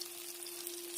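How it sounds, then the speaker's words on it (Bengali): Tomatoes and onions frying in a pan, a steady, close sizzle with a continuous hiss and a faint hum running underneath, no voices. "টমেটো আর পেঁয়াজটা লাল করে ভেজে নেব।"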